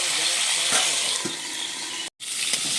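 Fish seasoned with turmeric and salt sizzles in a hot frying pan as it is stirred. The crackle of oil runs steadily, with soft scraping strokes and a brief dropout near the end.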